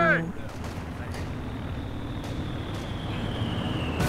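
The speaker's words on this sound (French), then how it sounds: "Frappe aérienne." An air strike hits in a Company of Heroes-style strategy game during a 2v2 tournament match, a sustained rumbling barrage of explosions and gunfire that holds at moderate loudness throughout.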